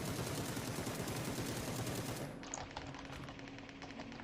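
Automatic rifle fired in a sustained spray in PUBG while aiming through a 2x scope, a rapid, loud, steady stream of shots lasting about two seconds before cutting off into quieter in-game ambience.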